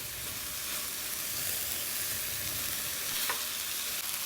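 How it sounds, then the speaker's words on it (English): Cooked rice tossed with chili flakes stirring and frying in a pan for a vegetarian dinner, a steady close hiss of sizzling with soft scraping throughout, no voices. "here it goes, my cooked rice, and give it a mix"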